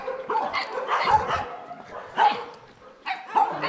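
A pack of dogs barks in bursts at a hillside base along a motorcycle ride, the sharp yips arriving in three clusters with quieter gaps between them.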